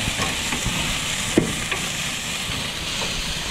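Four racks of ribs sizzle and flare up on an outdoor grill during a storm, a steady close frying hiss with occasional soft pops and crackles, no talking.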